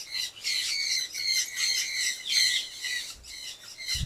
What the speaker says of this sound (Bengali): কিছু পাখি আছে